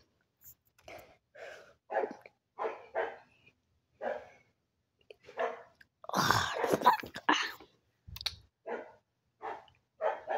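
A pet dog barking repeatedly indoors, a series of short sharp barks in irregular bursts with brief pauses between them, fairly close and heard alone.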